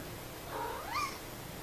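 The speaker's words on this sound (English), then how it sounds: "You make that little meow noise." A single small, high meow, rising and then falling, comes from a young animal and sounds faint and close against a quiet room.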